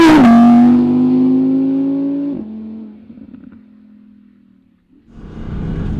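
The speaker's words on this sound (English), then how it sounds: "this loud, I mean, this is in Vegas yellow, naturally aspirated V10 flagship supercar from Audi." Audi R8 V10 Performance, a naturally aspirated V10 supercar, gives a loud high rev that drops as it shifts, then settles into a lower engine drone and fades before picking up again.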